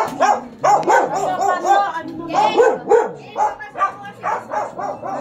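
A dog barks again and again in uneven, close bursts, some yelping, with people talking over and between the barks in a street setting.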